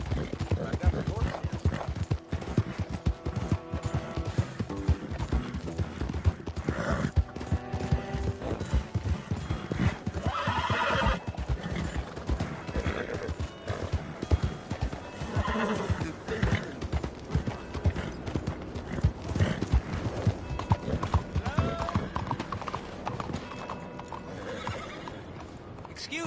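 Horse hooves clip-clop steadily while a horse neighs in Red Dead Redemption 2, with game sound effects and some mechanical clicking mixed in.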